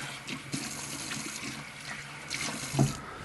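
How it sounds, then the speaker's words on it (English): Tap water runs into a sink as a cocktail jigger is rinsed, a steady close wash with a few brief splashes and clinks, with no talk. "Wash up my jigger real quick."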